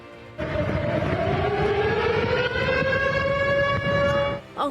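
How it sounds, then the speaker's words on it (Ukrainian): Civil defense air raid siren sounding in Belgorod, a loud sustained wail that slowly rises in pitch and holds steady for several seconds before cutting off, heard outdoors at a distance. "російські пабліки публікують відео із вилаючою сиреною у Білгороді"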